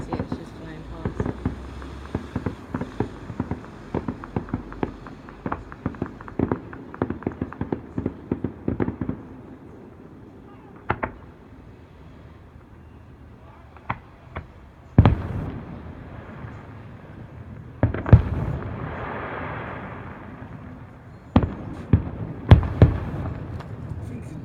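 Fireworks go off at the Jersey Battle of Flowers in 2016, with rapid popping crackles followed by scattered heavier booms and bursts at a moderate distance while people nearby chat.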